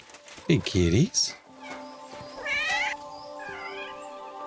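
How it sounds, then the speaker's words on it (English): Several loud, close cats meow and caterwaul in quick succession within Kingdom Come Deliverance 2, over a steady tonal background hum. "Is that meowing? How many of them are there, for Christ's sake?"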